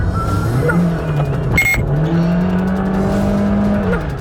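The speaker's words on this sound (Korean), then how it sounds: "확연히 커진 엔진음과 빨라진 속도." A car's engine, heard from its dashcam as the car runs away out of control, drones steadily and loudly with a rising pitch as it speeds up, a brief sharp burst of noise cutting in partway through.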